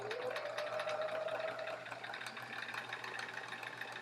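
A sewing machine stitches along quilt block edges in a steady, fast, whirring hum, close and moderately loud, running without a break from start to finish.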